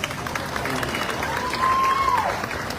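Audience applauding for a barangay officer at a staff gathering, a brief burst of clapping from a crowd with a thin whistle-like tone rising above it near the end.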